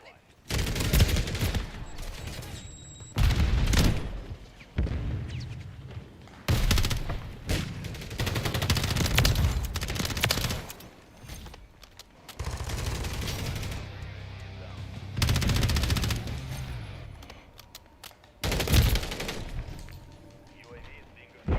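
Gunfire from the video game Call of Duty Modern Warfare III comes in repeated loud bursts of rapid automatic shots and heavy impacts, separated by short quieter gaps in which voices talk.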